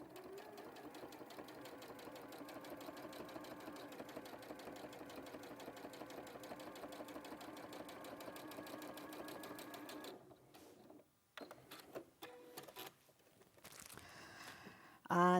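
A sewing machine stitches along a seam on the 1/4 inch setting, a fast steady mechanical whir with rapid needle ticks that runs continuously, then stops into scattered handling clicks and shuffles with a voice in the background.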